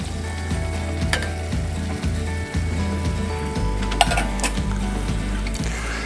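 Melted butter with flour sizzles steadily in a saucepan, a close, continuous bubbling crackle with occasional clicks and a brief knock, and nobody talks.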